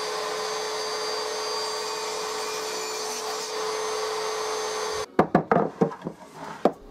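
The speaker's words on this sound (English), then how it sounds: "This time I used the crosscut sled on the table saw, as the piece was now a more manageable size." Table saw with a crosscut sled slicing an oak board for bedside tables: a steady, loud whining run for about five seconds, then abrupt stop followed by several sharp wooden knocks and clatters.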